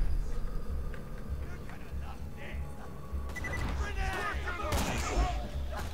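Enemy grenades burst amid gunfire during a Borderlands 2 firefight, with a busy crackle of shots and blasts thickening in the second half over a low rumble, while a voice talks alongside.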